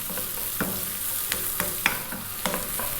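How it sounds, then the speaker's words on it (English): Chopped onions sizzle steadily in a hot frying pan as liver and bacon are prepared, with sharp scraping clatters roughly every half second as they are stirred and tossed, close and with no one speaking. "we're going to drop in those 2 cups of onions. And we're going to be flinging these around for about 4 minutes"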